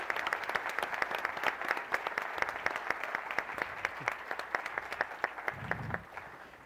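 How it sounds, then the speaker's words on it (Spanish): A business summit audience in Mexico applauds its panelists with steady, sharp, evenly spaced claps that fade out near the end, quiet and somewhat distant. "un aplauso para nuestros panelistas"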